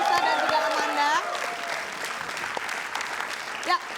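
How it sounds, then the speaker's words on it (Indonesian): A television talk show studio audience applauds loudly, with a host speaking over the opening moments before the clapping continues at a steady level. "Oke, beri tepuk tangan dulu buat Nova Elisa dan juga Amanda."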